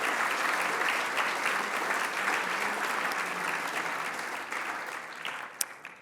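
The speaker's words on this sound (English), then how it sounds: "So let's give another round of applause to those organizations." A large audience at a State of the City address applauds business organizations, a dense, steady wash of clapping that holds for about six seconds and slowly fades near the end.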